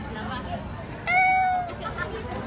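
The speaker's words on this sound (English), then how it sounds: "Okay, this kitty is in the room." A cat living under a car outside the Philippine Embassy gives a single clear meow, loud and close, while people murmur in the background.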